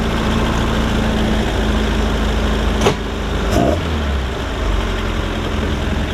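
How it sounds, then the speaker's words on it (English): A Mercruiser 3.0 boat engine on a Stingray, recently fitted with a new fuel pump and carburetor after sitting nine years, idles steadily with a loud, continuous low rumble, briefly dipping and wavering midway. "Got to give it some gas to idle down, so I don't know if that's typical for a boat"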